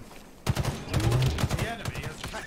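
Bursts of close automatic gunfire in the multiplayer shooter Halo Infinite, loud rapid shots starting abruptly after a quiet moment and continuing in uneven clusters, with a voice speaking over the shooting.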